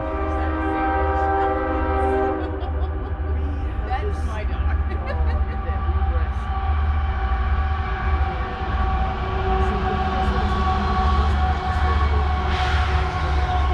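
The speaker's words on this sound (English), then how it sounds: "So there's another train coming." A train rumbles past with a steady low roar and rail noise, while a person speaks briefly over it.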